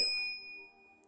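A notification bell gives a single bright ding that rings out and slowly fades over a faint low hum.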